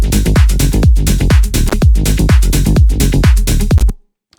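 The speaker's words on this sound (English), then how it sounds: "And then all together, that whole drum groove, the bass line, and this little lead bit." Tech house groove with drums, bass line and a small lead riff playing together: loud, steady four-on-the-floor kicks under a pulsing bass and melodic stabs, stopping abruptly near the end.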